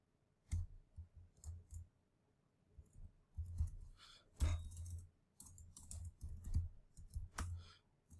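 Quick bursts of typing on a computer keyboard during an online business audit, the clicking keys coming in irregular clusters with short pauses, close and fairly quiet, with no talking.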